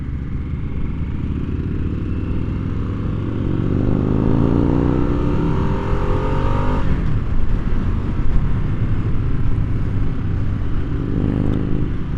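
A 2022 Harley-Davidson Nightster motorcycle engine runs loud and close for the whole stretch, its pitch climbing as it revs and accelerates, then settling to a steady drone.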